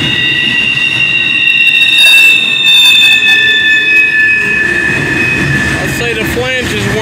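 A Norfolk Southern eastbound freight train rolls past at Amity Street in Homestead, Pennsylvania, its worn wheel flanges squealing loud and piercing over the low rumble of the cars.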